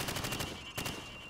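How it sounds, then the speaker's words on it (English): A rifle fired from the hip in Call of Duty 4: Modern Warfare, a rapid close burst of loud gunshots that stutters briefly and then fires again. "Now, shoot at the targets while firing from the hip."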